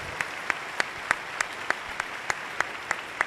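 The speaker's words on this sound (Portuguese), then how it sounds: "uma salva de palmas para todos os sacerdotes" Applause for the priests at a formal solemn session, heard as a steady crowd clapping with a few sharper, evenly spaced claps standing out on top, no voices over it.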